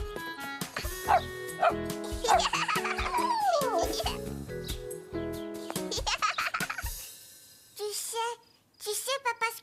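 A small dog barks and yips in an animated children's cartoon, short bursts coming mostly near the end, mixed with music and voices talking.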